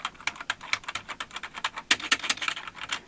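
Rapid keystrokes on the Timex Computer 2048's slightly soft, plasticky keyboard, a steady run of close, crisp clicks with a denser burst near the end and no voices.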